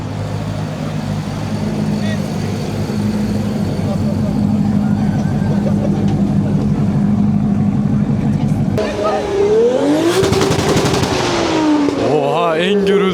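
A BMW E60 at a car meet revs loudly and crackles with sharp exhaust pops, the engine note rising and falling over a steady crowd-and-traffic din, with people talking nearby.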